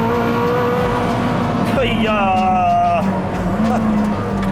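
A Koenigsegg supercar driven hard on a track roars at high revs, with a sharp gear change mid-run, a steady loud engine drone heard from the cabin.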